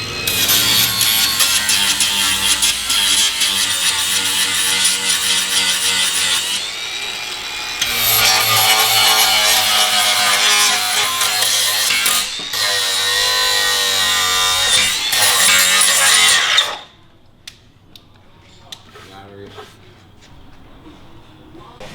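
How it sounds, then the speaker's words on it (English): A flap wheel on an angle grinder grinds down bare metal in a car engine bay during an M60 swap into an E30, with loud sustained abrasive whine in long bursts with short pauses, then stopping near the end. "Pretty much everything with the flap wheel, got it all down and clean"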